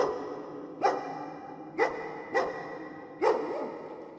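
Four sharp, separate barks sound at uneven intervals, loud and close with no talking, used as an effect for a possessed woman on all fours in a horror story.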